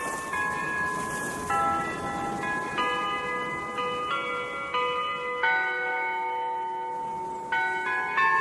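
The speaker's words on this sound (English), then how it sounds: "That there bell's been ringing these 10 minutes." Church bells peal on and off, overlapping tones sounding steadily and fairly loud, in a village setting where people are called to Sunday church.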